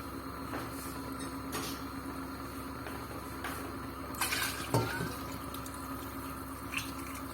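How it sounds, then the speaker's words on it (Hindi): Water is poured into a pot of dal and chicken, a short splashing pour rising midway through against a steady, fairly faint kitchen background hum, with no talking. "अब मैं इसके अंदर पानी डालूंगी।"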